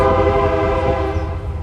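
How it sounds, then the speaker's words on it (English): A train passes close by with a loud, sustained horn blast that holds steady for the whole stretch, over a low rumble of rolling wagons, heard at a campsite. "Please go away, you stupid train."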